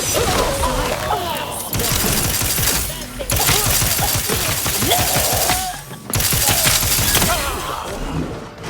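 A wrist weapon firing in The Outer Worlds 2, heard as loud, dense bursts of rapid blasts and crashes that fill most of the clip, with two short lulls breaking the barrage.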